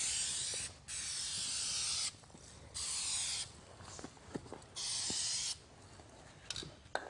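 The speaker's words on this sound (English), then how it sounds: "hold the can about 8 to 10 inches from the surface. Push down the trigger" A DupliColor Perfect Match primer spray can hisses in four steady bursts of about a second each, close up, with soft handling clicks and taps in the pauses between passes.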